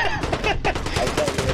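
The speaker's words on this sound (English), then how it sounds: "I hear so much gunfire." Rapid gunfire from the zombie mode of the video game Warzone crackles in dense, overlapping bursts, loud and continuous throughout with no pauses.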